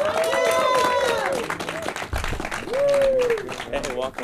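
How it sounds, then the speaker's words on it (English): An audience claps and cheers to welcome an artist on a TV interview show, a broad wash of applause running under loud, close talking voices. "Clap it up for him"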